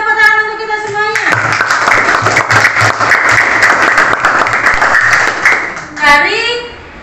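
Pupils in a classroom burst into loud, close applause, a dense stretch of clapping lasting several seconds, with a teacher speaking just before and after.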